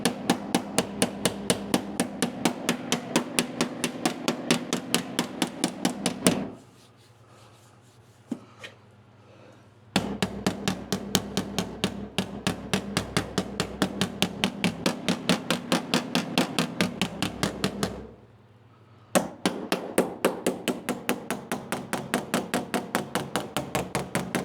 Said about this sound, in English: I'll get my body hammer. I'm going to work this over right here.